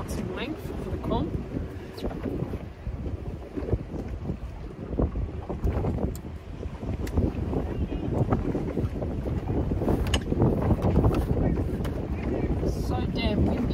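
Strong gusting wind buffets the microphone out on the water during a fishing outing from a boat, rising and falling in loud rushing bursts that grow stronger toward the end.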